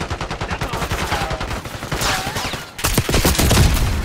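Heavy overlapping gunfire from several players in Call of Duty Black Ops 6, loud rapid automatic bursts with no letup, a brief dip before a final intense volley.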